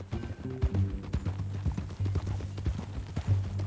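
Horse hooves clip-clop at a steady walking pace in the Red Dead Redemption 2 video game, close and moderately loud over a low ambient hum, with no talk.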